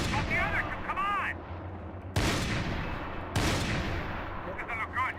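Gunfire in the Max Payne video game: two loud, sharp blasts with ringing tails stand out over a dense, continuous rumble of combat noise, while voices call out faintly at the start and end.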